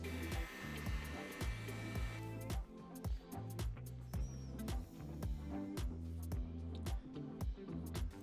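A heat gun warms a foam Mohawk vent for an Ultramarine helmet, a steady close blowing hum running throughout beneath scattered knocks and handling clatter, with no talk.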